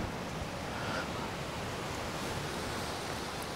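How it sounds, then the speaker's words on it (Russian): Strong wind blowing outdoors on an October evening in Sloviansk, a steady, loud, broadband roar that fills the whole stretch without a break and with no voices. "Ветер сумасшедший весь день."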